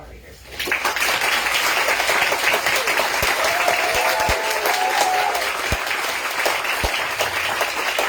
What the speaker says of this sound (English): final applause for all of our readers.